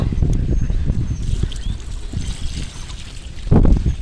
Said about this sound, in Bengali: তারপর দিয়েছি জল